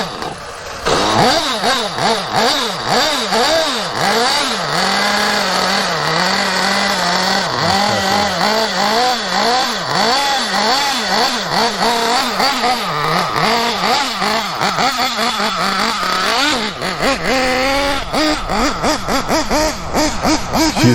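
Losi Eight RTR nitro RC buggy engine screams loud and close for the whole stretch, its high pitch rising and falling in constant revving sweeps, with no talk over it.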